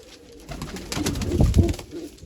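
Pigeons coo in a loft, with low, throaty rolling calls swelling in the middle of the moment, close and fairly clear over a quiet background.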